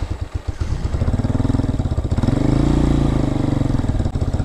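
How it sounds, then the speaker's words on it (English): A 2023 Hawk-X 250 motorcycle with only 34 miles is started with no choke: a few quick cranking pulses, then the engine catches and settles into a fast, even, rhythmic idle close by. "See how she starts with no choke."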